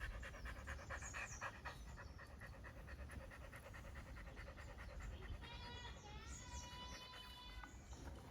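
A dog pants fast and rhythmically, close and quiet throughout, while birds chirp and other animal calls sound in the background of an outdoor setting.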